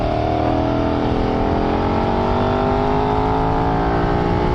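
A KTM 990 Adventure motorcycle engine revving hard during a rally, a loud continuous close roar with rising harmonic whine as it pulls through the revs.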